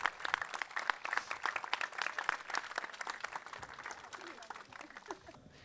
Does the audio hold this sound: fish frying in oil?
no